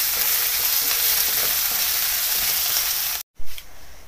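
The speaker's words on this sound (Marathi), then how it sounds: "कांदा छान परतून घेऊ आपण" Chopped onion sautés in a hot pan for baingan bharta, a steady, dense sizzle that runs unbroken until a brief dropout near the end, then resumes more faintly.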